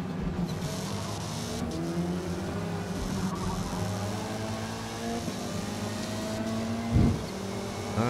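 Race car engine in Forza Motorsport holding a steady droning note through an overtake, with a brief louder burst near the end as another car closes in; no talk.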